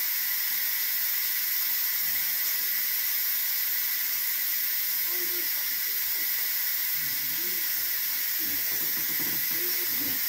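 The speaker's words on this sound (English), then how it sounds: "You see all the steam coming out of the..." Steam hisses loudly and steadily from a pressure cooker releasing pressure while making beef stew, a broad continuous rush that fills the whole clip, with faint talk low underneath.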